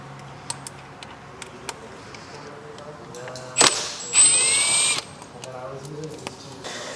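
A cordless power tool with a 10mm socket runs fasteners on a C8 Corvette Stingray's taillight area: soft ticking clicks, then a sharp burst and about a second of high whirring, close and brief amid quiet handling noise.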